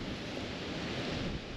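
Steady broadband wind rushing over a kayak on a tributary of the Fox River in southern Wisconsin, a continuous even roar with no pauses, close and constant, with no voices.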